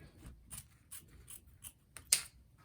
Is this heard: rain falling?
no